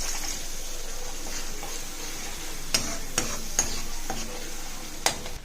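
Ground tamarind chutney sizzles in hot oil in a kadai as a low, steady hiss, with a few sharp spoon taps scattered through it.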